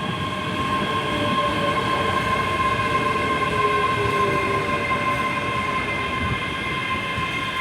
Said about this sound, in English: coming in now is 1903 service to Dunblane, the service originating at Edinburgh Waverley